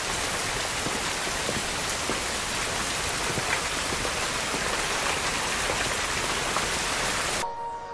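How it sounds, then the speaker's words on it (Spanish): Steady, dense rain falls throughout, a continuous hiss with scattered drop patters, stopping abruptly near the end. "está lloviendo."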